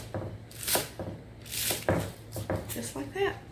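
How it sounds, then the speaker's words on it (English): A knife slices vegetables on a diagonal for a homemade chow mein stir fry, giving a few crisp cuts against a board under a person talking. "And then I cut them on a diagonal."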